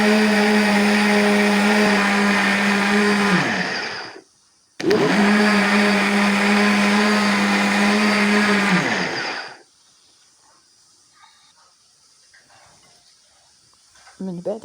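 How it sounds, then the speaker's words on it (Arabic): An electric mixer whirs steadily through cake batter with a pinch of salt added, running loud for about four seconds, stopping briefly, then running again for about five more seconds before cutting off into near silence. "دابا غادي نخلط هذا الخليط حتى ينسجم كامل."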